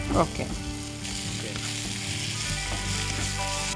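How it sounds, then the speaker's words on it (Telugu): Onions fry with ginger garlic paste in a pan, a loud, continuous close-up sizzle that stays dense and even throughout, with no voices. "ఉల్లిపాయలు కూడా బాగా ఫ్రై అయిపోయి"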